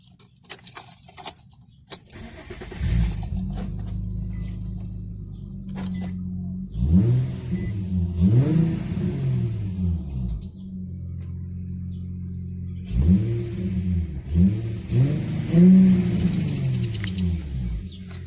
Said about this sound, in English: the final step is turning on the car and making sure everything's working